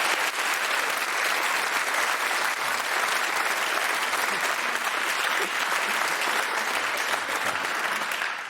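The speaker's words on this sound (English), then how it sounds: "we offer you this majestic round of applause" Dense, sustained applause from a radio theatre studio audience during a British quiz programme, steady and full throughout with no voices rising above it.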